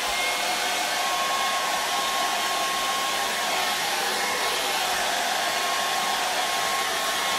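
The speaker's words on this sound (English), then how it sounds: "we use the hairdryer to dry off the charcoal." A hair dryer blows continuously at close range, drying hairspray on a charcoal drawing, a loud, steady whooshing roar with a thin whine running through it.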